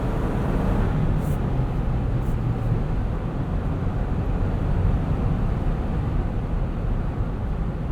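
A 2019 Jeep Wrangler Unlimited Sahara 4x4 drives through a handling test, heard from inside as a steady, dense rumble of engine, road and wind noise, constant and moderately loud with no talking.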